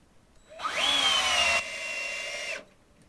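A power drill drives a screw into pre-drilled wood while building a stool from skateboard decks, a close whirring motor that rises in pitch, holds for about two seconds with a slight drop, then stops.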